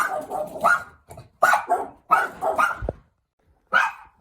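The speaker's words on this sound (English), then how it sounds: "I am not sure what they were barking at" Dogs bark in several sharp bursts close by, with short pauses between, then one final bark after a brief silence.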